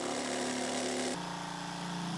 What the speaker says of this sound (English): I think I'll switch to my jigsaw to cut the hole